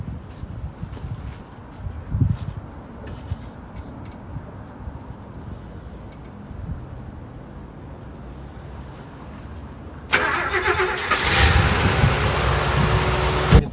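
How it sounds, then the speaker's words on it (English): A 1969 Mercedes-Benz 300 SEL 6.3 is cold-started: quiet wind and rumbling ambience, then at about ten seconds the engine catches and settles into a steady, loud idle that runs to the end. "I'm going to do a cold start."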